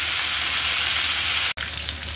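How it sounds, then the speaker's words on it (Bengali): Taro pieces lightly frying in a pan give off a dense, steady sizzle and crackle, close and continuous, broken by one sharp click partway through. "কচুটাও কিন্তু আমি হালকা ভেজে নিব।"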